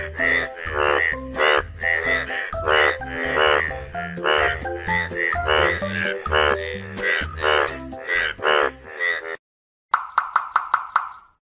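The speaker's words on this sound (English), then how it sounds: "Very good. Frog." Cartoon frog croaking in an animal-learning game, a run of loud, rhythmic, throaty croaks close up, then a brief gap and a burst of rapid knocking croaks.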